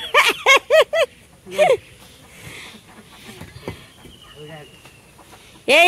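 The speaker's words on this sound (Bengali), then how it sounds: "তো সাত সকালের নিলয় উঠে আমাকে হাঁস মুরগি ছেড়ে দিবেন" Chickens and ducks let out in the morning give a quick burst of loud, repeated clucking calls up close, then go quieter while people talk nearby.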